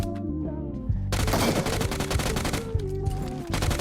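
A UMP submachine gun fires in rapid automatic bursts in a shooter game, starting after a quiet moment and rattling on loud and close, with game music tones underneath.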